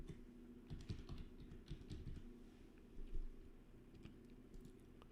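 Quiet clatter of keys as a short message is typed on a computer keyboard, with irregular bursts of soft taps and no talking.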